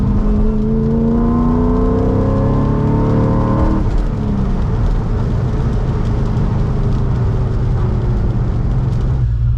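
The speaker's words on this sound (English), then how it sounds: "constantly over revving it's really tough to get that blip right" An R34 Nissan Skyline engine over-revs hard and high, pitch climbing and dropping in quick surges, loud and close with constant roaring.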